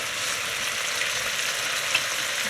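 Butter and two tablespoons of cooking oil sizzling and frying in a wok, a steady bright crackling hiss close up with no voices.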